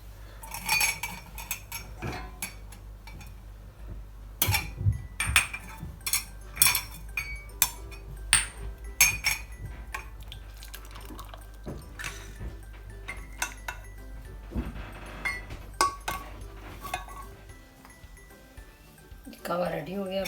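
Cups and utensils clink repeatedly while kahwa tea is poured into a cup, a run of sharp metallic and ceramic taps over a low steady hum, with a voice speaking intermittently.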